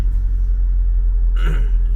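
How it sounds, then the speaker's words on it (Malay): A car engine gives a steady, close, low rumble throughout, with a brief brighter burst of noise near the end and no talk. "walaupun dalam keadaan bising sebab bunyi enjin kereta apa semua"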